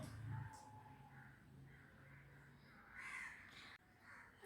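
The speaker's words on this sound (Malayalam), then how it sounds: "കാക്ക അവിടെ ഇരുന്ന് കരയുന്ന കണ്ടിട്ടാണ് അത് പറയുന്നത്." A crow gives several distinct caws from a short distance, set against quiet background hum and faint household sounds.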